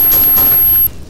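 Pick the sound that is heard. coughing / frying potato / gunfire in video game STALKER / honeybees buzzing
gunfire in video game STALKER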